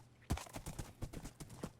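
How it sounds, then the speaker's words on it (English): Horse hooves clip-clopping in the Minecraft video game, a quick irregular series of close, faint clopping steps with no voices. "there's so many horses I don't know what to do with them"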